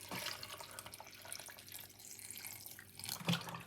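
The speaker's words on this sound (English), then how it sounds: "I'm gonna put some water inside of it" Water poured into a mix of honey, lemon and ginger, a steady low splashing trickle at close range with a brief louder burst near the end, no voices.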